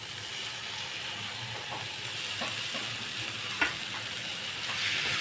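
Tomatoes dropped onto onions frying in a pan give a low continuous sizzle, with faint clicks and scrapes and one brief sharp clatter near the end, heard close with no talking.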